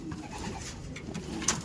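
Racing pigeons coo softly in low, rolling murmurs close by, with a faint higher chirp near the end.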